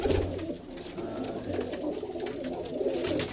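Breeder pigeons at a home loft cooing, soft rolling coos repeating over a steady background murmur, close by, with no talk over them.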